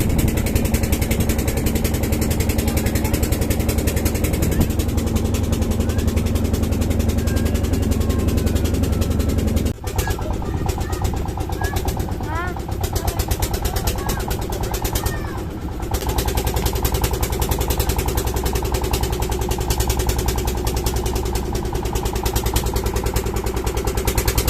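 A motor boat engine on the Padma river runs as a loud, continuous rapid chugging drone. It stays close throughout, with brief dips near the middle and toward the end.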